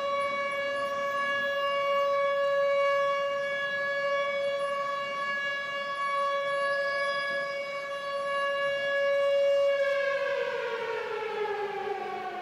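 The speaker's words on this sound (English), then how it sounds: "Let me get a siren going." A DJ's siren sound effect wails steadily and loudly at a fixed pitch for about ten seconds, then bends downward as it winds down near the end, with no talking over it.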